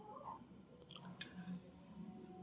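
Small palm fruit fritters (tal fulori) deep-frying in hot oil give a quiet, steady sizzle and patter throughout, with a thin high tone running through it.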